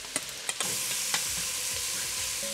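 Carrot and celery drop into a hot pan of seared meat for pasta alla Genovese, with a few sharp clattering hits and stirring scrapes over a steady, close frying sizzle.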